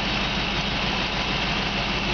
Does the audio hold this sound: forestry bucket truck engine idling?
yes